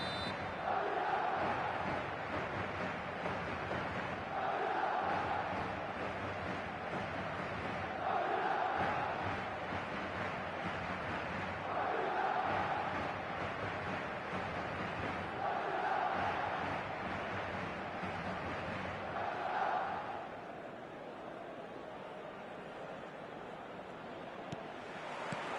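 A football stadium crowd roars in rhythmic surges, swelling chants rising and falling roughly every four seconds over a constant wash of distant noise, fading slightly near the end.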